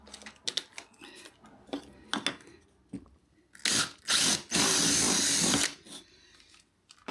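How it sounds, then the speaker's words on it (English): Clicks and short mechanical bursts lead into several loud, sustained drilling runs close by as a hole is drilled through a roof, the longest lasting over a second before stopping. "when you drill the hole for your roof"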